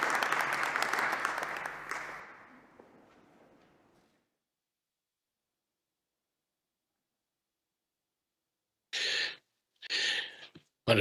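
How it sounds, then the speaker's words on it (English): Audience applause at an energy forum welcoming a speaker on stage, loud and sustained for about two seconds, then fading out into silence, followed later by a few short bursts of nearby sound. "let's welcome him with a round of applause"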